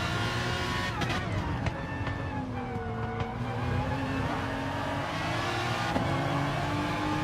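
McLaren F1 race cars scream through a hairpin in an online racing game, engines revving and shifting loudly and continuously, with cars passing close and faint tire squeal at moments.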